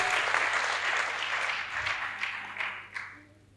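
Congregation applauding and cheering at a church healing testimony service, a dense wash of clapping that swells, then fades with a few louder bursts toward the end.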